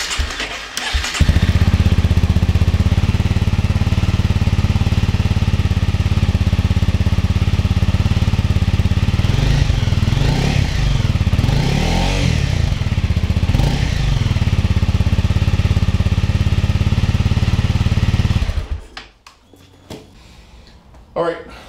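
A Honda CRF250L dirt bike engine with stock exhaust revs loudly and continuously up close, rising and falling in pitch, then cuts off near the end.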